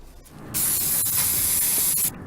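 An aerosol spray-paint can releases one steady, loud, close hiss lasting about one and a half seconds, starting and stopping abruptly, with no voices.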